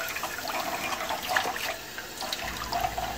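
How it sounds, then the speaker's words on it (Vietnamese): Tap water runs at a gentle flow while fish are rinsed in a kitchen sink, a steady close rushing hiss with small splashes, no voices. "mình tiếp tục xả nước ở mức độ vừa nhẹ như vậy, rồi rửa nhẹ nhàng để cho trôi những cái cặn bám"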